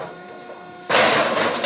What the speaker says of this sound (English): Hydraulic shear there that's operated with foot control.